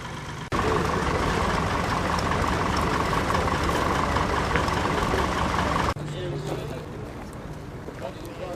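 An International French vineyard tractor at a Cheffins machinery sale runs with a steady, loud engine drone that cuts off abruptly after about five seconds, leaving quieter outdoor background; someone talks over it.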